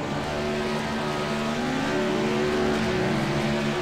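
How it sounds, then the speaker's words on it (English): Three trucks doing a burnout on the start-finish line, a loud, sustained engine roar with steady droning pitch and tire squeal mixed in, continuous throughout without voices. "A 3-truck burnout."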